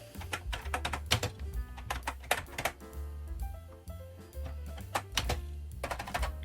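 Typing on a C64 Maxi computer keyboard, a steady run of close, clicky keystrokes in uneven rhythm with a low hum underneath, no talk.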